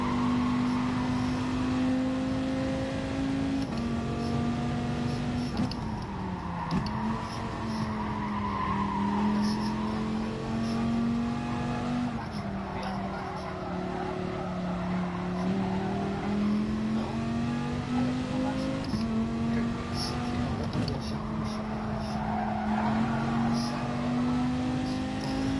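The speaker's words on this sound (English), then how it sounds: "we're definitely revving out too much, trying to get rid of the fuel" Racing car engine in a video game revving hard and sustained at a steady high pitch, with shifting tone changes and some tire squeal over about twenty-five seconds.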